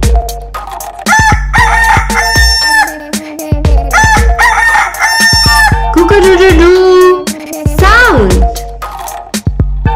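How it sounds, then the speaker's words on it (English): A rooster crows loudly and close in a farm-animal sound recording, several long harmonic crows in succession separated by short pauses. "Rooster. Rooster. Cook-a-doo-doo-doo."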